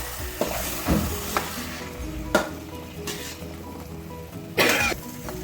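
Semolina halwa is stirred in a hot pan, with a soft continuous sizzle broken by several sharp scraping strokes of the spoon, close and alone without speech.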